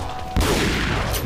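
A shotgun fired at enemies in Resident Evil 4, with one loud, close blast cutting in sharply and a dense, noisy roar trailing after it, and no talking.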